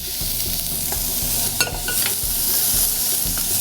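Garlic frying in a pan sizzles steadily up close while a utensil scrapes and stirs against the pan bottom in repeated strokes, with one sharp knock partway through and no speech.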